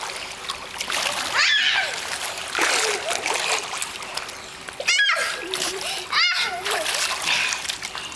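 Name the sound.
child splashing in a swimming pool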